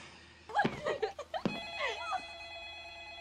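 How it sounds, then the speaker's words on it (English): A telephone rings with a steady tone in a scene from the 2002 horror film The Ring, starting after about a second of laughter and excited reactions. The ringing continues fairly loud over room noise. "Now the phone's ringing."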